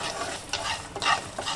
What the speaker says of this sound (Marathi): आता आपण थोडंसं तेल घालणार आहोत आणि छान भाजून घेणार आहोत सगळं.